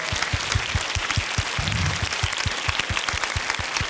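Audience clapping at an evening event, a steady dense round of applause with no voices over it.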